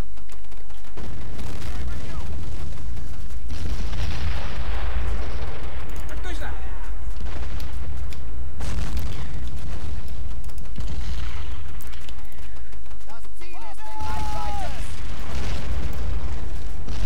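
Grenade blasts and gunfire rumble loudly through a battle in Men of War: Red Tide, with heavy booms and someone talking over the din.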